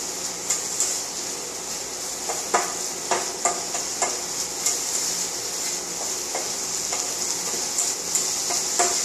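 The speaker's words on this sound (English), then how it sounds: "Now, it's cooking." Breakfast pita filling sizzles steadily in a pan while being stirred. Repeated short scraping clicks from a utensil sound over the constant frying hiss.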